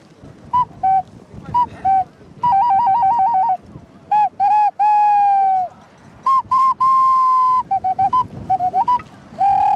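Shrill clay bird toy whistles toot repeatedly in short bursts and warbling trills, loud and close, with occasional longer steady notes.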